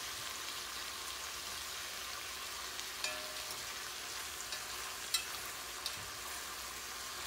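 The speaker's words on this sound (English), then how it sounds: "Almost like you pan frying the chicken" Chicken pan-frying in a pot gives a steady, even sizzle and crackle with occasional small pops and faint stirring sounds, close and continuous with no talking.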